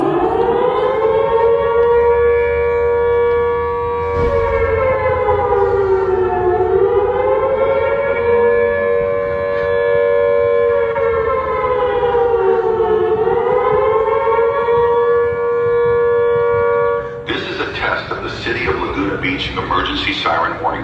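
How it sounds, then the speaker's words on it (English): A civil defense emergency warning siren blares loudly and continuously, its tone slowly rising and falling in long sweeps, with a burst of other noise near the end. "Emergency siren warning system."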